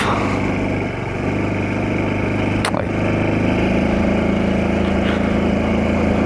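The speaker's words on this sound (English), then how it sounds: "The engine performance isn't brilliant on it, but I don't really care." A Honda Super Cub 125 motorcycle engine runs steadily while riding, a loud, constant mid-pitched hum with a brief change partway through.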